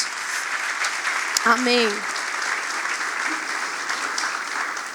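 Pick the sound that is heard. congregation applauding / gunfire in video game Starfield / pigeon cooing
congregation applauding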